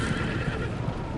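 A horse in the Telltale Game of Thrones game gives a loud, close whinny that fills the whole short moment, with a rough, fluttering rhythm and no talk over it.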